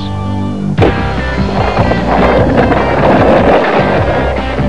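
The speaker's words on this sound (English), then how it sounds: "no skateboarding in the hallways" Loud rolling rumble of skateboard wheels over a hard floor, with a sharp clack near the start, continuous and close.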